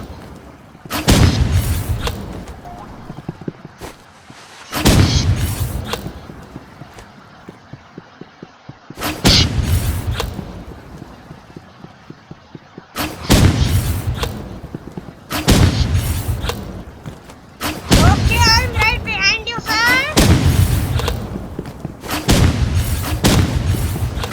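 Gunfire in the Roblox video game, with bursts of loud booming shots in several clusters separated by short pauses, punchy and close, with no talking.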